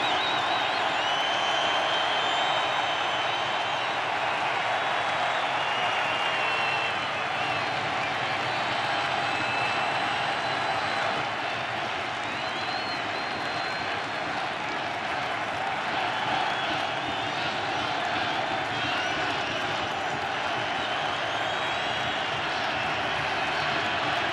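A World Series baseball crowd between the Indians and Cubs stands and cheers in a steady, sustained roar mixed with applause and whistles, loud and unbroken throughout.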